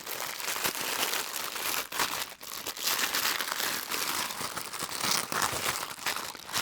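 Packaging crinkles and tears while a console organizer shelf for a Silverado or Sierra is unboxed, a continuous loud close rustle with no talking.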